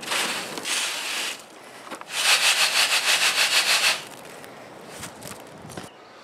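Wash sand shaken through an eighth-inch screen over a mortar box: close, gritty rasping scrapes, then a run of quick, even shaking strokes with a steady pulse, followed by quieter scuffs and no talking.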